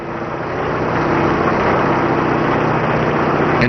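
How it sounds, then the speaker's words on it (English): A drill rig boring through caprock toward a target zone, a steady, heavy mechanical engine drone that holds evenly and loud from start to finish, with no talk. "As the drill bites through the caprock and approaches the target zone, its progress is monitored foot by foot."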